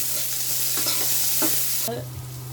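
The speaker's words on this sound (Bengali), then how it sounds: "পেঁয়াজটা একটু লাল লাল করে বাদামি কালার করে ভাজি করি" Chopped onions sizzle steadily in a hot pan for pilaf, browning as a utensil scrapes through them in a few distinct stirring strokes over a constant low hum, with no one talking.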